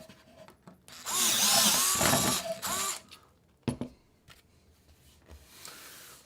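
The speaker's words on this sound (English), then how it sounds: "We'll drill these 4 out," A power drill bores out holes in two close bursts of high whirring, each a second or two long, followed by scattered clicks and clatter of handling.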